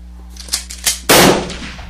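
A few sharp gunshots in the video game Board Game Online, two light cracks followed by a louder blast that rings out and fades, with a steady hum underneath.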